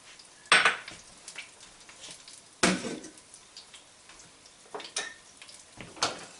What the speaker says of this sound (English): I'll saute the garlic.